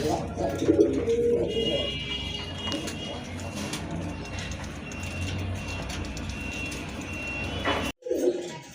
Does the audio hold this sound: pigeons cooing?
yes